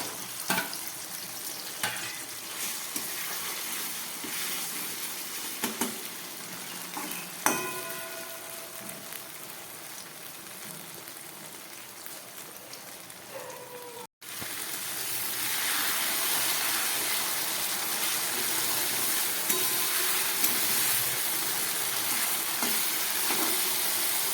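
Chilli chicken masala sizzles and fries in a pan, with steady crackling broken by occasional scrapes of stirring and a brief pause midway before the frying returns, louder and denser.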